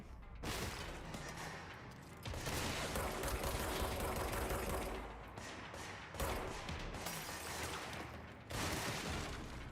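Sustained bursts of gunfire in the PS5 video game Control, loud and dense, coming in several long volleys separated by brief dips.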